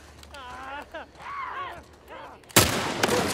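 A single loud gunshot booms suddenly and close in The Last of Us Part 1. The blast follows a stretch of voice sounds and leaves a noisy, rumbling tail.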